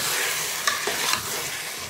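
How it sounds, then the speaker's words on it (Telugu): Chicken pieces go into a simmering curry in a pan and get stirred, giving a steady close sizzle broken by a few soft scraping knocks of the spoon; no voices. "ఇప్పుడు చికెన్ వేస్తాను. చూడండి, చికెన్ వేసి కొద్దిగా సేపు ఉడకబెడతాను."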